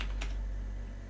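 A computer keyboard gives a quick couple of clattering keystrokes late at night during programming, then only a steady low room hum remains, close and quiet with no voices.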